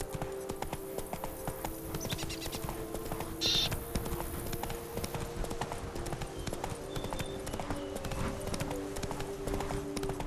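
Horse Roach galloping in the video game The Witcher 3, a steady rhythmic clip-clop of hooves running throughout, close and continuous over game ambience and music.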